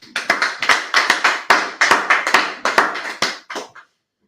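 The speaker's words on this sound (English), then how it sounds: "Clap it up." A class audience claps in a fast, rhythmic burst of hand claps, loud and close, with no talking, ending abruptly after nearly four seconds.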